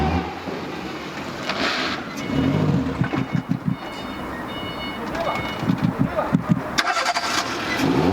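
Renault Clio car engine cranking and turning over with repeated rhythmic bursts, then idling and revving loudly, with voices talking around it.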